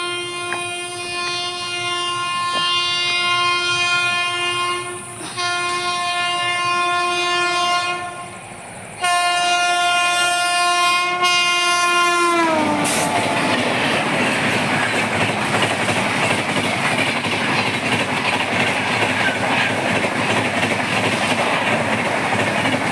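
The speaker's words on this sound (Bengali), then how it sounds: "এই দেখো বন্ধুরা, দুটো ট্রেন আসছে একসাথে।" Two trains pass close by together, a long loud horn blaring for the first dozen seconds before giving way to a heavy, steady rumble and clatter of wagons rolling past, with no talking.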